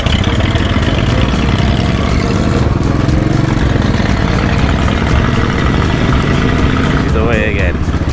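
A 1918 Hudson Super Six with a three-speed gearbox rumbles away, its low, steady engine drone close and loud, with a faint tonal sweep near the end.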